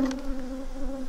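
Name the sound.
honey bees buzzing in hive box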